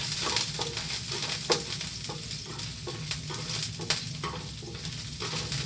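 Ginger sizzles in a hot pan, a continuous close frying hiss with regular light scrapes and taps from stirring, no speech.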